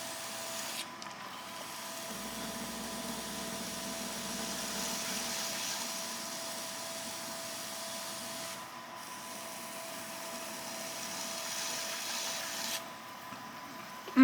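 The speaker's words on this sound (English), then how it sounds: "Now I'm just gonna start trimming off this excess part." Continuous soft scraping and rubbing of a trimming tool cutting excess clay from a pottery bowl on a spinning wheel, a steady hum beneath it with no speech.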